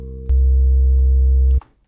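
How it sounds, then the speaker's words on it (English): A very low sine-wave bass tone from an oscillator in the Massive software synth, entering after a brief tone and holding steady and loud for over a second before cutting off. "which is pretty much just a super low sine wave to add some bassiness"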